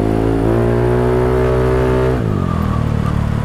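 A stock Yamaha Mio Sporty 160cc scooter engine, loud and close, holds a steady drone and then drops in pitch as the revs ease off, with no talk over it.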